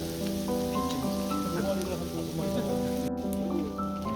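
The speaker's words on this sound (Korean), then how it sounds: "이렇게 긴 곱창은 처음 보는데요. 맛있게 익어가고 있습니다." Long beef intestines (gopchang) grilling on a rooftop give a steady, dense sizzle like rain on a surface, continuous and close, with faint tonal background sounds layered underneath.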